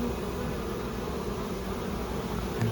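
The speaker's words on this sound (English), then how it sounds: "There's a lot of bees hanging out underneath here, as you can see." Honeybees cluster beneath and around a hive box where a newly installed colony is festooning, and their steady close buzzing hum carries on without a break, with no talking over it.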